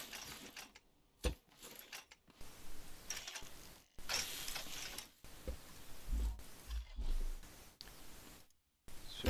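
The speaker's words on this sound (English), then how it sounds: "Let me just weld this to the ground real quick." Welding a memory cube to the ground in Scrap Mechanic brings faint mechanical clicks and clunks, scattered irregularly with brief gaps of quiet and no talking.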